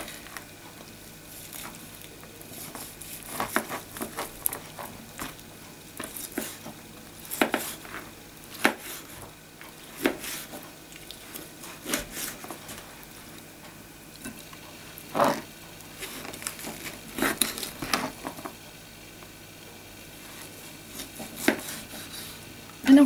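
Lamb ribs being chopped apart with a knife on a board, with irregular sharp knocks and thuds every second or two over a quiet kitchen background and no talking.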